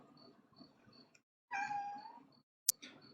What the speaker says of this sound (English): I've got my cat meowing there in the background